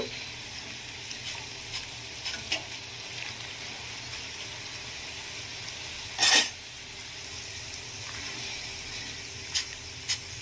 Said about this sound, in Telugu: చూసారు కదా, సౌండ్ అనేది తెలుస్తుంది, అంటే బెండకాయ అనేది ఫ్రై అయిపోయింది.